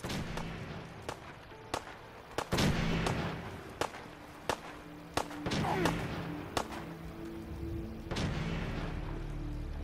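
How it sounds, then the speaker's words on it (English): Gunfire in the video game Fallout 4, a string of sharp single shots spaced irregularly over several seconds, some louder and closer, with game ambience between them and faint voices in places. "Opening fire."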